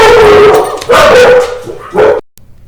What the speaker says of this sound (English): my dogs are going a little bit nuts about that. So, super sorry that they are deciding to bark.